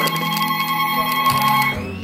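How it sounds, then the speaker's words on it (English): A landline house phone rings indoors, a steady electronic ring holding for about two seconds before cutting off, with no one talking. "My phone's about to ring."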